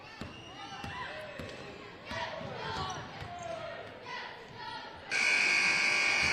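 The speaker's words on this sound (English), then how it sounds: "Buzzer beater, no good." Basketballs bounce and sneakers squeak in a gym amid crowd noise at a basketball game, then a loud, steady electronic game-ending buzzer blares at the end.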